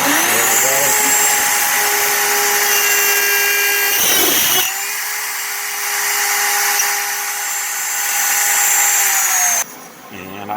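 A CNC router cuts a keyhole slot with a 2-inch keyhole bit, giving a loud, steady high-pitched whine that drops out briefly in the middle and then resumes before stopping near the end.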